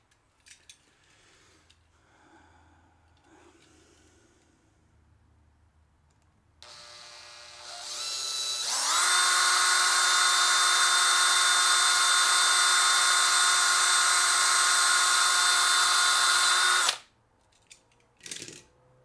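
A hand drill bores through a part in a long, loud, steady whine of about eight seconds that cuts off abruptly, with quieter handling noises before and after.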